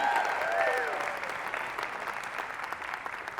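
A Sunday-morning keto conference crowd in Austin, Texas claps together, a sustained, even roar of applause that tapers slightly, with a few faint whistles near the start.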